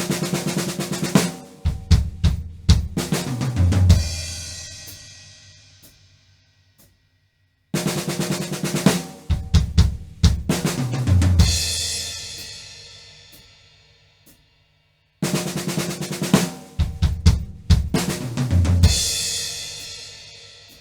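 A drum kit plays a fill built on an 11-stroke double-stroke roll and 16th-note triplets, repeated three times with short gaps between, each pass of rolling hits closing in a ringing crash.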